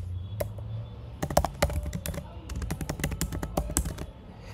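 Rapid clatter of typing on a computer keyboard, keys struck in irregular bursts and close by, with a voice talking faintly underneath.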